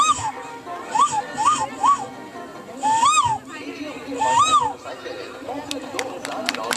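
A voice imitates the call of a koel, the Asian cuckoo, with a series of rising whooping coos repeated in short bursts, amid a crowd murmuring and chattering.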